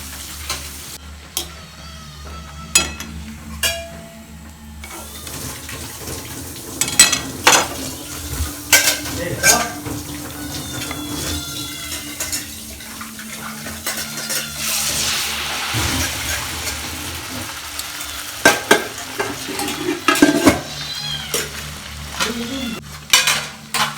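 Cucumber vadas deep-fry in oil in a home kitchen pan, a steady bubbling sizzle running throughout with scattered clinks and scrapes of utensils against the pan, close and moderately loud.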